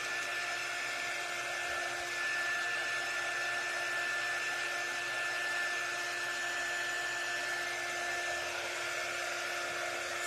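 A hair dryer blows steadily, drying painted craft cutouts for radish kitchen decor, producing a continuous whirring hiss with a faint high whine, moderately loud and unchanging the whole time.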